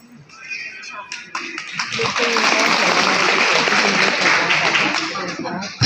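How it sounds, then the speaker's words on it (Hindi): Rousing applause at a women's programme held in a school, a dense wash of many clapping hands swelling after a few scattered claps and holding steady under faint voices. "जोरदार तालियां"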